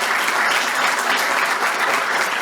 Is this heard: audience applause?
yes